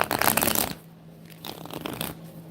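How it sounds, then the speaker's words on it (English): Tarot cards being shuffled up close, a crisp riffling burst followed by a softer second flurry of flicking cards, with no voices. "to shuffle these cards the best way as possible"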